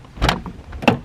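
The door of a neglected barn-find BMW E30 is tugged open, giving two sharp mechanical clunks and rattles about half a second apart, close and fairly loud.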